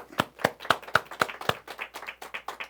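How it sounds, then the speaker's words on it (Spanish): Small church congregation clapping together, about a dozen loud, evenly spaced claps that soften into quicker, fainter scattered clapping at the end. "Un aplauso."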